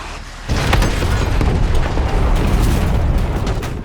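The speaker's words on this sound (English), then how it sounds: "Mortar on the way." Mortar strike in Call of Duty: Black Ops 6, a loud, sudden booming blast that rolls into a sustained rumbling roar of debris and noise.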